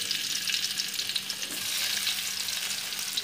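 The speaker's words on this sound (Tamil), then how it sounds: "முதல்ல நம்ம உருளைக்கிழங்கு பொறித்து எடுத்துக்குவோம்." Potatoes fry in oil in a pan, giving a continuous dense sizzle with fine crackling and faint stirring noises, close and steady throughout.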